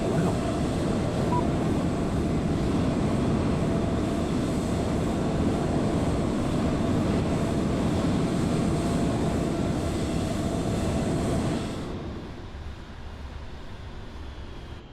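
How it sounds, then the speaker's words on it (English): Aircraft engines running in Microsoft Flight Simulator, a loud, steady roaring drone with a high whine that holds constant, then drops abruptly to a quieter muffled hum near the end. "Larry's still got his engines on. That is super loud."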